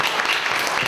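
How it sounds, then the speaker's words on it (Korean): Brief burst of audience clapping at an indoor book talk event, dense and steady, close and moderately loud for under a second. "다시 한번 박수 부탁드립니다"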